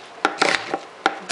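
Onions are sliced with a knife on a cutting board, with a few sharp, close chops coming in an uneven rhythm.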